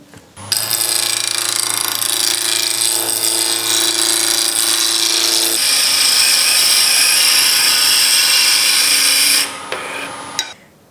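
Steady, continuous whirring and scraping of a wood lathe running, with a brief shift in pitch midway and a quiet stop near the end.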